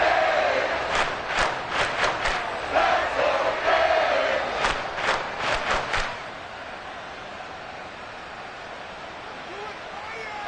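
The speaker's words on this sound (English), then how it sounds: "This crowd turning up the decibel level." A loud football stadium crowd roars and swells late in an NFL game, with rhythmic rising chants for several seconds before settling into a steadier din.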